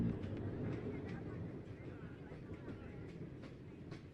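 A train rolls along its rails with a steady low rumble and faint periodic clicks, a continuous mid-distance roar that runs the whole time, with people talking over it.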